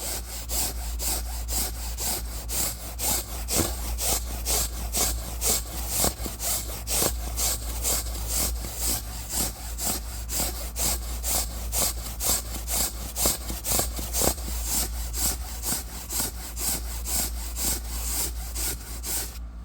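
Car seat upholstery being scrubbed with a brush during interior detailing, a steady rapid back-and-forth rasping that runs close and loud throughout, with no talk.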